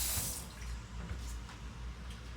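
Hot tap water running into a kitchen sink while hands are scrubbed underneath, a soft steady splashing stream with faint drips and rubbing, low in level and without talk.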